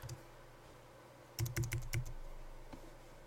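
Close, quiet keystrokes on a computer keyboard while text is entered in After Effects: a quick run of about five taps followed by one lone later press over a faint room hum.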